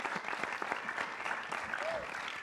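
Audience applause fills a church service, a steady dense clapping from a crowd that runs the whole time, loud and close with some mixed voices underneath.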